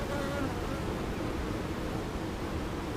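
Honeybees drone in a dense, continuous buzz close by during a routine inspection of a backyard hive on a North Carolina farm, loud and steady with no pauses and no one talking.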